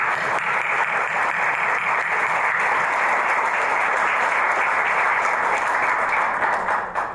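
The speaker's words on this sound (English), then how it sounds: "We'll give you a round of applause." Sustained, even audience applause at a university certificate program graduation ceremony, many people clapping steadily and fairly loudly for about seven seconds before it begins to fade.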